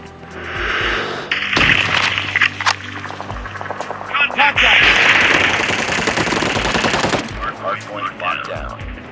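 Rapid bursts of automatic gunfire from the Call of Duty Mobile video game, close and loud, mixed with sharper single shots and in-game effects across the whole stretch.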